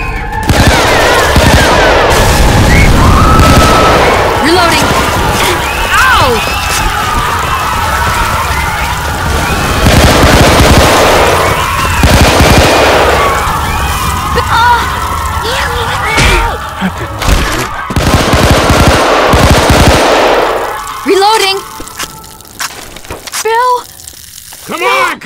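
Video game firefight: loud sustained bursts of gunfire with booming impacts and an exploding barrel, voices talking over much of the action, quieter near the end.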